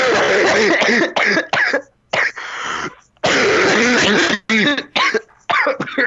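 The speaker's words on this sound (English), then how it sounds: "Count how long I'm about to cough in seconds." A long, harsh coughing fit close up, bursts of hacking coughs and throat-clearing with brief gasping pauses between them.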